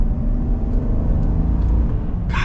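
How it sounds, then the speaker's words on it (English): 2021 Chevy 1500 Trail Boss pickup with a 6.2L V8 accelerating on the road, a deep, loud, steady engine rumble heard from inside the cab. "Get our acceleration here with the Trail Boss."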